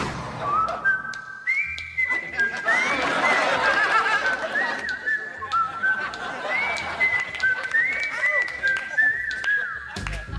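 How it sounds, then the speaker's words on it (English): Whistled sitcom theme tune from The Andy Griffith Show, a bright melodic whistle carrying a simple tune in rising and falling phrases, heard over quiet background chatter and soft low sounds. "do you notice that whistling song?"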